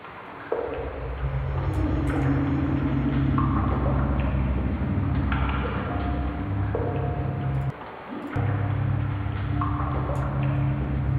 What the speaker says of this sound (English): I think the water noise is too loud now.